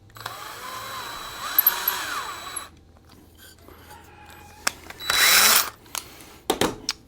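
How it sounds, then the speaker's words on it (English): A power drill drives a wooden dowel into brass in a woodworking shop, with a moderate whir at first, then a short louder burst of drilling and a few clicks near the end. "And go ahead and drill it into your brass."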